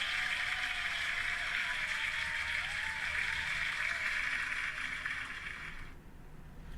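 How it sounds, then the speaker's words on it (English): Round of applause as a dense, steady hiss of many hands clapping, moderately loud and unbroken for several seconds before cutting off abruptly near the end. "Let me just give a round of applause because now my computer's working."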